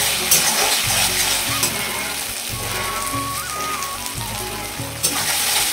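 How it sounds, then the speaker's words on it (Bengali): Ginger-garlic paste frying in a pan for a chicken dish, a steady dense sizzle with scraping stirs and occasional clicks of a utensil, close and continuous with no talking. "আদা রসুনটাকে ভালোভাবে কষিয়ে নিতে হবে যাতে না কাঁচা গন্ধটা ছাড়ে।"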